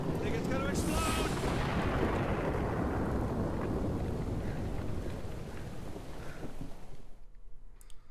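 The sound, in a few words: elemental exploding in video game Guild Wars 2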